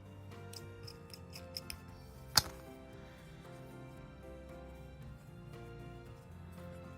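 Scissors give a single crisp snip through chunky yarn during crochet work on a flower, close and fairly quiet, with a few light handling taps around it and no talking.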